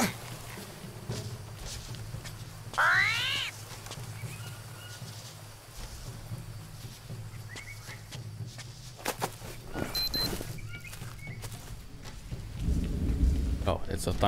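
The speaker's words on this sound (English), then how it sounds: "Oh, it's a thunder, that's what it was." Thunder rumbles through a rainy jungle in the survival game Green Hell, rolling low and loud across the whole stretch over steady rain, with a sharp crack early on and a heavier boom near the end.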